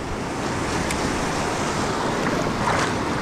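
Large ocean waves roll and surge off the Palawan coast during ultralight casting, a loud, continuous roar of surf mixed with wind noise on the microphone.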